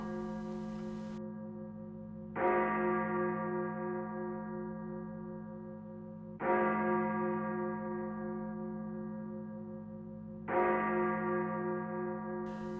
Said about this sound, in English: Up on the roof, a bell had begun to toll.